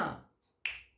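A single crisp finger snap, close and dry, stands alone after a fading earlier sound and quiet.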